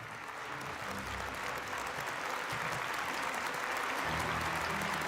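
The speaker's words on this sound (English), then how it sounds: "Please welcome them with a warm round of applause." A warm round of applause fills the hall at an international world summit, dense and continuous clapping from a large audience holding steady, with a low hum from the hall beneath it.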